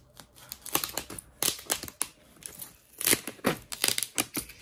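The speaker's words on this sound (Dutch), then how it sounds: "Even voorzichtig plakband wat losmaken." Packing tape being carefully peeled loose from a cardboard box, heard as a quiet series of close crackling, tearing rips and crinkles in irregular bursts.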